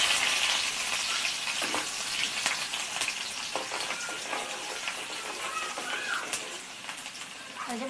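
Curry leaves hit hot oil for a tempering, as the start of a Maharashtrian-style chicken curry, making a bright crackling sizzle that starts strong and settles into a steady fry with scattered pops.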